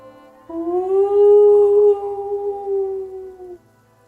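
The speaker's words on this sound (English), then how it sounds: "you hear the howling again. Closer." A long, wavering howl, dog- or wolf-like, used as a sound effect during a tabletop RPG session. It rises, holds steady and then fades over a few seconds, fairly loud and with no one talking.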